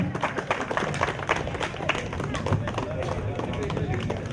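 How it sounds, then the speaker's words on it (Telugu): Audience applauding a teacher at a school batch reunion gathering, a sustained crowd of clapping hands, dense and fairly close, with a voice speaking over it. "Please give to big claps."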